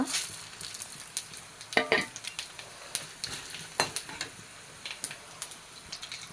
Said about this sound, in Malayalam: ഇതൊന്ന് ഇളക്കി കൊടുക്കാം ഇതാ പെരിഞ്ജീരകം ചെറിയ ജീരകം ലേശം ഉലുവ